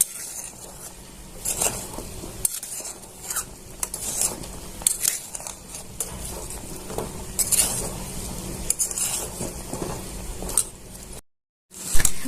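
Pak modak soaking in sugar syrup in a pan on a lit gas stove: soft sizzling and bubbling under repeated scraping and clinking of a spoon against the pan, with brief louder knocks and a short silent gap near the end.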